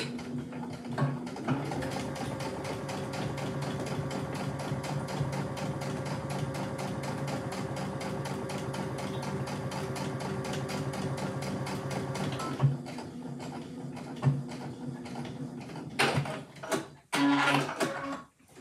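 A sewing machine runs steadily for about eleven seconds, stitching across the bottom of a fabric pot holder, with a dense mechanical whir, followed by a few handling clicks and bumps.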